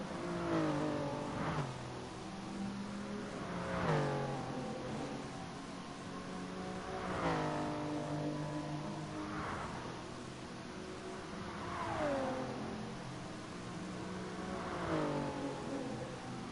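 GT3 race car engines in Gran Turismo Sport at Bathurst rise and fall through repeated revving gear changes, a steady loud drone with periodic downshift blips as a car drifts through the cutting on super soft tyres.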